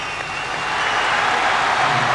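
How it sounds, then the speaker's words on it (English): Applause from David Beckham at a freestyle football challenge, heard as a dense, steady wash of clapping that swells slightly and holds loud throughout. "Applause from David Beckham."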